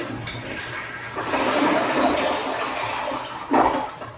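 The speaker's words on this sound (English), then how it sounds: "Flush the water from the tank." A household toilet flushes to drain its tank after the water supply valve behind it has been shut off during a bathroom remodel: a steady, rushing gush of water close by that lasts throughout, swelling briefly near the end, with no talking.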